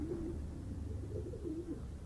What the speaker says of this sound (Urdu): یہ پیورلی ان کے اپنے گھر کے کبوتر ہیں, گھر کی بریڈ ہے